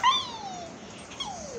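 A puppy lets out a faint, high whimper that slides downward, followed by a second short whine, close by and alone in a quiet room.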